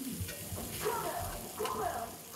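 Mixed vegetables cooking down over low heat in a pan for breakfast burritos, a soft steady sizzle with faint stirring, fairly quiet.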